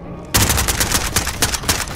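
Sudden bursts of rapid gunfire from a video game start after a brief quiet moment, a fast, loud, close string of sharp shots.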